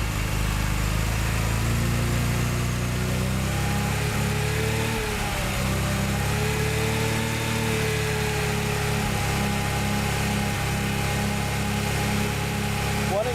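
A Mazda RX7 rotary engine held at about 2,000 RPM, a steady, loud droning hum with a slight dip and recovery partway through, running continuously with no voices.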